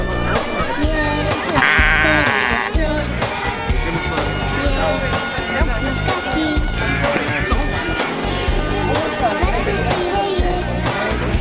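Sheep bleat repeatedly at an Icelandic sheep roundup at Skarðsrétt, loud and close amid a dense crowd of people talking, shouting and moving around the pens.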